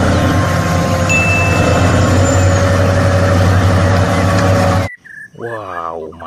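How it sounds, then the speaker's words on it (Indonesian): A mining truck unloading its load, a loud, steady low engine rumble with a high whine and hiss that cuts off abruptly, followed by a person speaking near the end. "Di sini ada truk tambang. Wow, sedang membongkar muatan teman-teman."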